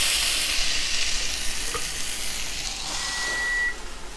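Hoisin beef sizzles on hot grill plates just after being flipped, a bright, steady hiss and crackle that holds close and fairly loud throughout, with a faint tone near the end.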